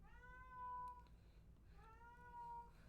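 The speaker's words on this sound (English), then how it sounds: "These cats have been throwing themselves against my door." Two drawn-out cat meows, each about a second long and separated by a short pause, sound faint and muffled through a closed door over a low background hum.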